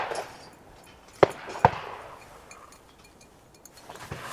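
A cheap second-hand shotgun firing at clay targets outdoors: two sharp, fairly distant bangs about half a second apart, each with a short decaying tail, then quiet ambience.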